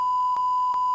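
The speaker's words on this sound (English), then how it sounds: "Beep, beep, beep." A loud, steady electronic beep tone broken by two tiny gaps into three back-to-back beeps within about a second, heard alone.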